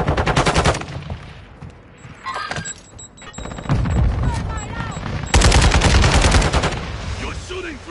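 Automatic gunfire in Call of Duty, with rapid loud bursts near the start and again later, separated by quieter stretches with debris clatter and game effects, close and punchy.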